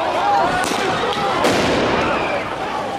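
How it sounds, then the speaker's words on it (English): Loud police rubber-ball blast grenade detonating, a sharp crack followed moments later by a second burst, set against a dense, noisy crowd-like wash throughout. "Consider the following explosion."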